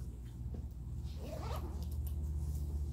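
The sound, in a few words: zipper pull on a case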